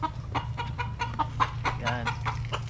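Fighting roosters at a rural provincial home cluck in short, repeated bursts, fairly close, over a steady low background hum.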